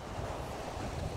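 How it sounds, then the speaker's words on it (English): Steady, broadband wind noise buffets the microphone, with a continuous rushing roar and low rumble throughout, no voices. "it's very windy out"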